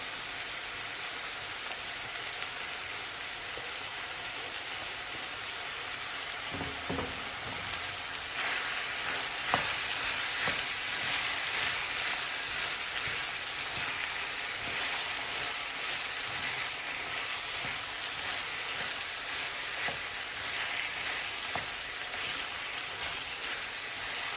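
Vegetables frying with seasoned minced meat filling for a Nigerian meat pie in a pan, giving a steady, broadband hiss and sizzle that holds evenly throughout, close and fairly loud, with no voices.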